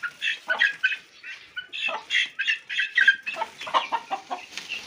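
Aseel chickens cluck in a busy, overlapping run of short calls, several birds close by and loud without pause.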